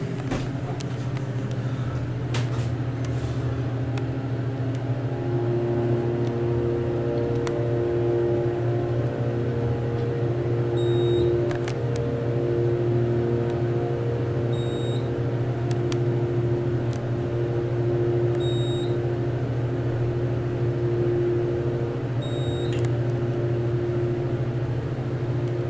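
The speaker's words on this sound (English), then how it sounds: "The motor's new as well, so we'll listen to that." A new motor on a Schindler hydraulic elevator in a hotel runs with a steady, close low hum and faint whine, continuous throughout with a few soft high beeps.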